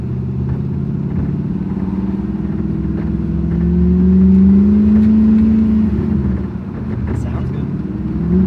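An old barn-find Corvette, sitting for a decade, drives off with its engine revving up and holding a rising drone, loud and close from inside the car, with people talking in the cabin.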